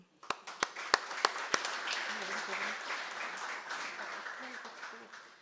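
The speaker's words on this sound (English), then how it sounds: "a huge round of applause to you" An audience at a teaching excellence awards ceremony breaks into applause, opening with a few sharp, loud individual claps before settling into steady, moderate clapping that carries on for several seconds.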